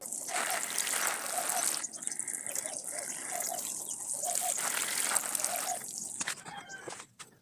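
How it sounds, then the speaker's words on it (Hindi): Epsom salt water poured onto potted bougainvillea plants, a soft gushing and trickling stream in uneven bursts with drips, fairly quiet and close. "अब पानी देते हैं हम प्लांटों को और पानी इन प्लांटों को पूरा ही भर के ही देना है"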